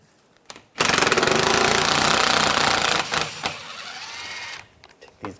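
A powered socket wrench removes the bolts of the engine splash shield on a 2013-2016 Dodge Dart, making a loud, close, continuous mechanical rattling buzz for about four seconds before stopping.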